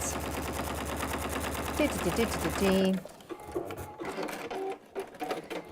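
A sewing machine top stitching through pleather and binding runs in a steady, fast mechanical rattle for a few seconds, then stops abruptly as a voice carries on talking.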